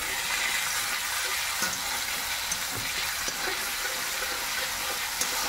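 Cumin and finely chopped onion frying in oil in a kadhai, a constant dense sizzle with light stirring knocks scattered through.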